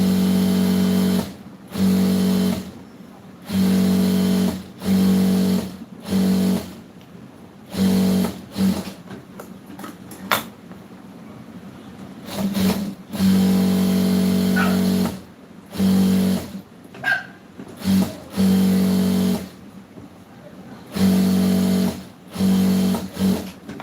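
An electric sewing machine stitches the side seams and bottom of a chudidar, running in repeated bursts of steady mechanical whirring with short pauses between runs, close and fairly loud.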